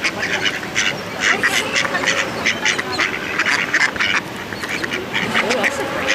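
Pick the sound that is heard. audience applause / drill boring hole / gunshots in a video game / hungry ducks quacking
hungry ducks quacking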